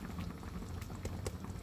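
Quiet bubbling of liquid simmering in a pot, soft irregular pops and gurgles, close and low in volume.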